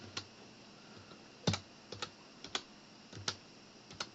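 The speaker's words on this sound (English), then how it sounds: "If I type a message box here" Close, quiet computer-keyboard typing: a short sparse run of crisp individual key clicks with small gaps, heard alone.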